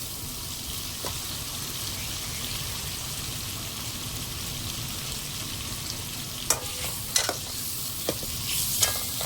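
Prawns fry in oil in a pan under a continuous close sizzle, and toward the end a few sharp scrapes and clacks from stirring break in; nobody talks.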